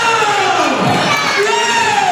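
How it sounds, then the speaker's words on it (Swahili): A church congregation at a Sunday service cheers and shouts in a loud, sustained burst of crowd noise, with high excited voices rising over the din. "Wapi makofi mazuri jamani kwa Yesu"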